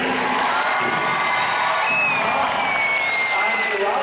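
A crowd at an Australian stock horse exhibition claps and cheers loudly and continuously, with whoops and shouts rising over the dense applause.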